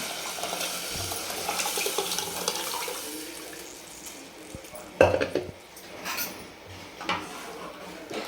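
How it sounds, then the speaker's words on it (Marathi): Mutton curry broth poured into a pan of oily fried masala; a wet pouring rush and soft sizzle, then sharp clinks and scrapes of a utensil against the pan, close and fairly quiet. "तर आपण आता हा जो रस्सा आहे तो टाकून घेणार आहे"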